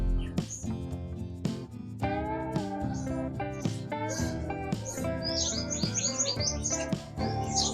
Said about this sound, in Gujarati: હવે તો મસ્ત વાતાવરણ છે, સવારમાં ચકલાનો કલબલાટ સાથે